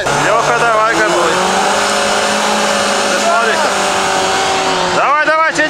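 A UAZ engine revs hard while pulling a stuck Renault Duster out on a kinetic rope on hilly off-road ground, a loud sustained straining roar with rising pitch sweeps, and people talk over it.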